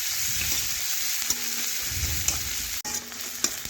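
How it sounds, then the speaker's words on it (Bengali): Chopped onions sizzle in hot oil while being stirred, a close steady frying hiss broken by brief spatula scrapes and knocks. "পেঁয়াজ একটু নাড়াচাড়া করে একটু লাল লাল ভেজে নিচ্ছি।"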